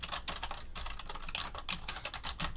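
Typing on an IBM KB 9823 rubber dome keyboard: quick, irregular runs of close, muffled key presses with slight clicks, continuous throughout and without talk.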